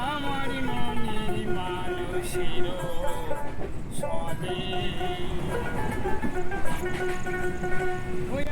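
Balurghat–Howrah Express 13064, sleeper class, running at night after leaving Farakka Junction: a steady, loud rolling rumble of coaches with a faint ringing tone, continuous throughout.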